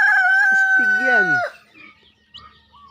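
A rooster crows once, loud and close, a long rising-and-falling call lasting about a second and a half, followed by faint low clucking and quiet rustling.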